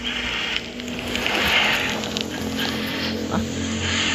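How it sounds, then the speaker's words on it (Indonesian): A steady motor drone with passing motorbike engine whine and hum from outside, fairly loud but muffled, with gusty wind-like noise throughout. "suara motor dari luar recordnya kurang tepat"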